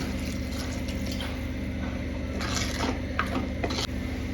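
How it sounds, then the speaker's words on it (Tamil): Water splashes and trickles into a sambar cooking pot for a few seconds over a steady low kitchen hum, with soft clinks near the end. "கொஞ்சம் தண்ணி ஊற்றி வேக வைக்கலாம்."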